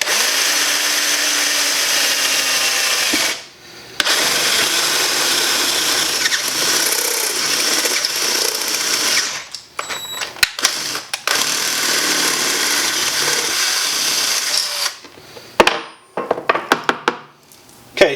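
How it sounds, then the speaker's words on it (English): A power drill bores a 1/2 inch hole into a Predator 212cc small engine, running in long steady whirring bursts with short pauses and a few stop-start pulses near the end, no talking. "So let's get to drilling this."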